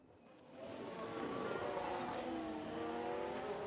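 A Formula 1 car in the F1 Manager 2022 racing game at the Canadian Grand Prix locks its brakes and runs into the wall, heard as a loud, steady, high-pitched engine drone rising in at the start with faint tyre squeal.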